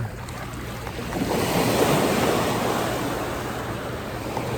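Ocean waves roll in at high tide at a fishing spot, a steady broad wash of surf, loud and close, with wind buffeting the microphone and no voices.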